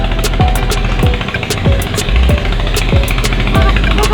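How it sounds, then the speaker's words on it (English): The traditional engine of a klotok wooden river boat thumps loudly and rhythmically up close, roughly two regular knocking beats per second over a constant rumbling hum. "they built with the wood and they put some like traditional engine, and it's so noisy"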